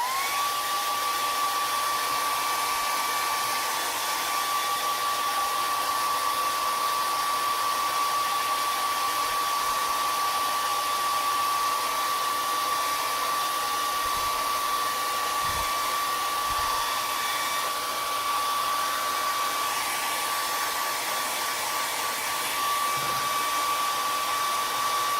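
Hair dryer drying wet acrylic paint on a canvas, a steady loud whooshing hum held unbroken for the full length, with faint low bumps beneath.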